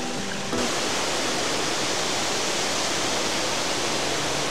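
Waterfall at Yedigöller in a forested lakeland, a steady loud broadband roar of falling water that starts abruptly and continues unbroken and close, with no voices.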